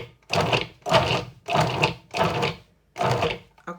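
A food processor pulses tart dough in five short, even bursts of chopping whir, each separated by a brief pause, close and clear.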